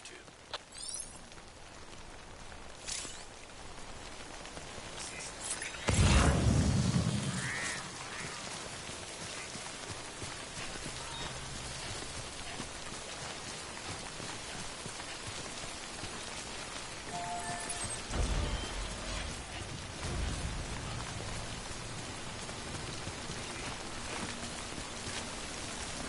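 Steady rain from timefall in the video game Death Stranding, a constant close hiss of drops on surfaces for the whole stretch, with a few louder thumps and rumbles breaking through now and then.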